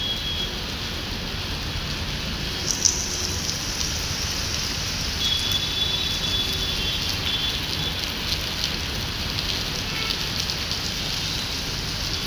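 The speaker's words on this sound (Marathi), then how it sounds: "त्या पुन्हा पाऊस कसा पडतोय बघा" Heavy rain pouring steadily in Mumbai near Jio World, a dense unbroken hiss of drops on surfaces lasting throughout, even and loud, with no talking.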